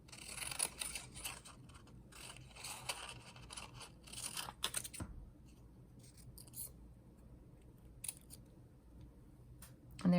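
Scissors cut out a paper snake-tongue shape for an accordion snake craft, with a close run of crisp snipping and paper scraping, then quieter rustles and a few isolated snips.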